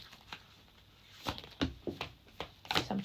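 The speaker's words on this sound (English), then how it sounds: "I'm going to give them a shuffle again." Tarot cards shuffled by hand, a quiet run of soft papery riffles and taps that grows into several sharper slaps and flutters toward the end, close by and with no talking.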